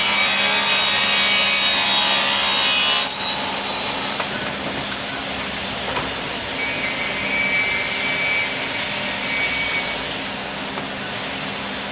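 A Hendrick panel saw cuts a half-inch polypropylene sheet with a loud, steady whine and grinding rasp. The tone shifts partway through, then the machine keeps running at a lower level with no talk.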